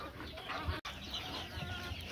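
Golden Misri hens on a farm in Pakistan cluck softly and intermittently, faint and somewhat distant against a steady background hiss.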